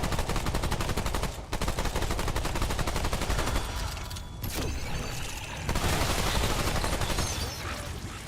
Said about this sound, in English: Gun is doing no damage.